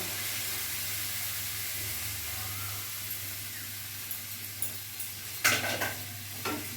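Hakka noodles stir-fried with a homemade roasted spice mix in a pan, a steady hissing sizzle under background noise, then a few close scraping and tossing strokes toward the end, without talk.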